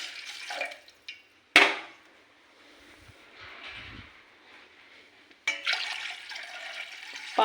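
Water poured into a cooking pot for vegetable soup, a broad rushing splash that starts abruptly, fades to a low trickle, then surges again near the end, close and moderately loud with no talk.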